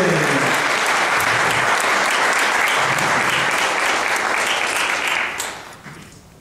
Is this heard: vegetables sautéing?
no